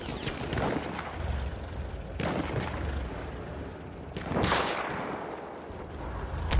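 Machine gun and heavy gunfire in the Battlefield 1 video game: loud, sustained bursts of automatic fire with booming impacts and blasts rising and falling over several seconds.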